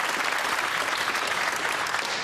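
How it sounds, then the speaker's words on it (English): A snooker match audience at the English Open breaks into loud, dense applause, with sustained steady clapping filling the hall throughout. "Crowd already applauding."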